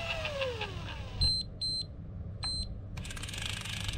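A Shimano Plays 3000 electric fishing reel sounds a few sharp, high electronic beeps while counting, short spaced tones over a low background hum, followed by a longer buzzing tone.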